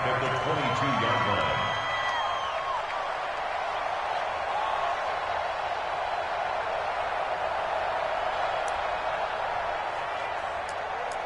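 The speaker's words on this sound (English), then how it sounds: "And this crowd loves it as their guys hold on the opening drive." Stadium crowd cheering in an American football video game, a broad sustained roar that swells early and holds steady under a commentator's voice.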